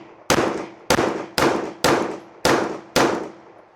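Six sharp pistol shots from a Glock 19 Gen 5, spaced roughly half a second apart in a steady rhythm, each a loud close crack with a short decaying tail.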